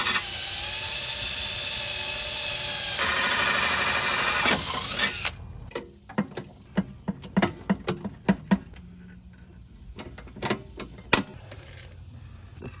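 A patch panel being riveted onto an old car firewall: a long whining power-tool drone first, then a run of sharp separate rivet pops and clicks at uneven intervals, close and loud.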